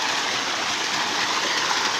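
Tancak Tulis waterfall in Tanggul village, Jember, Indonesia, pouring as a dense, continuous rushing hiss, steady and enveloping with no pauses or other sounds.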